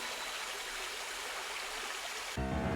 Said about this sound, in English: The reservoir has sprung a leak.